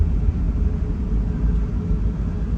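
Steady low rumble inside the cabin of an Airbus airliner at Heathrow before takeoff, a continuous dull drone with no talk.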